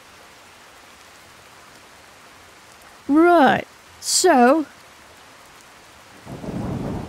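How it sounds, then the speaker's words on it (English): Rain and thunder in the video game Skyrim form a soft, constant hiss, with a louder rumbling swell near the end, and a brief voice speaks over it. "Get out of this blasted rain."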